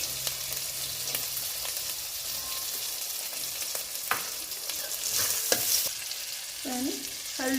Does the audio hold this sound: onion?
yes